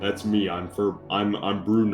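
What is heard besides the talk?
No everyday noise stands out behind the speech.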